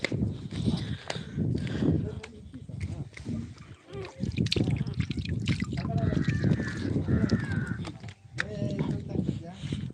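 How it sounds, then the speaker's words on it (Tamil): A waterfall pours at a village falls, a steady rushing wash of water running through the whole stretch beneath near, almost continuous talk, with occasional splashing and footsteps. "நம்ம தண்ணி வருதுங்க அருவியில்"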